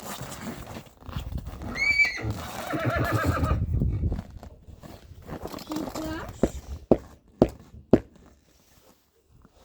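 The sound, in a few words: young horse foal neighing with hooves clopping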